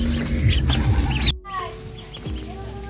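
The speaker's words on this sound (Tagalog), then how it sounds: "Mga itik pala ito." A group of ducks gives repeated clucking, quacking calls close by at a house garden, layered with outdoor background noise and a brief cutoff midway.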